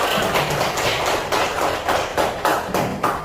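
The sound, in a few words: clapping hands together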